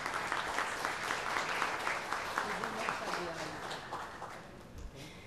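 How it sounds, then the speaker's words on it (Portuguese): Crowd clapping for comrade Irã Caetano at a solemn session honouring the PC do B party's 93rd anniversary, steady applause filling the hall with voices mixed underneath. "Gostaria de uma salva de palmas para ele"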